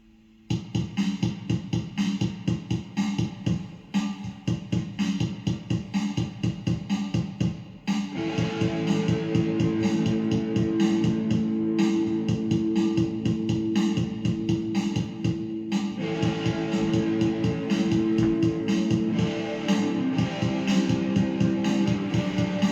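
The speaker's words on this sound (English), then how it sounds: "So the most basic layer is a guitar and a drum loop" Guitar over a looping electronic drum kit beat from a loop pedal, dense and steady throughout with a fuller second layer kicking in around eight seconds; no voices.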